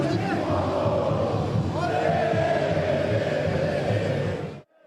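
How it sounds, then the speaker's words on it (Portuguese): Palmeiras football supporters outside the training ground sing and cheer as a dense, continuous crowd roar, loud and sustained before cutting off abruptly at the end. "a torcida que canta e vibra apoiou incondicionalmente"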